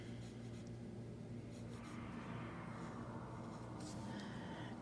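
A pencil scratching on paper, drawing a rectangle and a bumpy outline for a bed's headboard in a perspective sketch; soft continuous strokes over a steady background hum.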